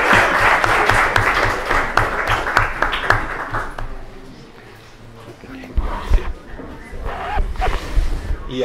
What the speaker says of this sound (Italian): Gli applausi che ha ricevuto il professor Favole dimostrano l'interesse e l'entusiasmo che ha suscitato